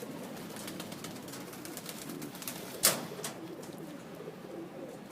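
Domestic pigeons coo softly on a rooftop, low murmuring calls at a distance under steady background noise, with one sharp brief click.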